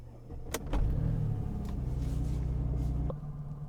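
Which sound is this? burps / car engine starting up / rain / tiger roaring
car engine starting up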